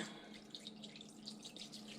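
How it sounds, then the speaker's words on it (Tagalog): Water poured into a roasting pan holding pork belly before oven roasting, a faint, steady trickle and drip with no talk. "Lagyan muna natin ng konting tubig"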